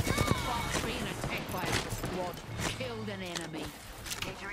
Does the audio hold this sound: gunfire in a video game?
yes